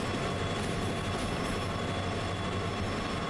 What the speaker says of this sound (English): we are now going uphill. And as you can see, it's a struggle for this locomotive.